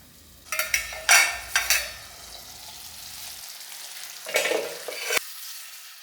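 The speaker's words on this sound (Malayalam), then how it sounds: "ഇനി ആവശ്യത്തിന് ഉപ്പും ചേർത്ത് എളുപ്പമുണ്ട് ഒന്ന് ഇളക്കി പിടിപ്പിച്ച ശേഷം നമുക്കിത് അടച്ചു വച്ചിട്ട് ഇനി വേവിക്കാം." Vegetable biryani being stirred in a pot on the stove, with several close scraping, sizzling stirs in quick bursts, a quieter pause, then a final few strokes before it stops.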